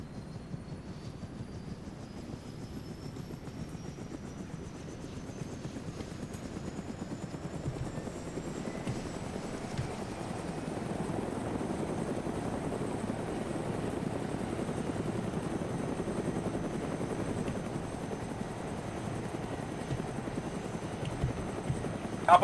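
Helicopters in the combat game ARMA 3 give off a steady rotor and engine drone. The drone holds throughout and swells slightly near the middle, with no talk over it.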